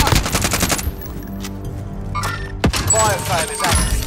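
Gunfire crackles through a battle royale video game fight in rapid automatic bursts and single heavy shots, loud and close, with game voice lines over it.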